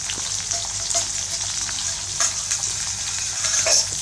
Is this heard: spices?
yes